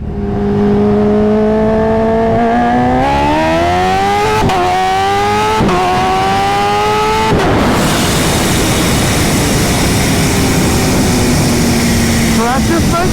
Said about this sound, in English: that's a full throttle. Take off in first gear with no wheelie.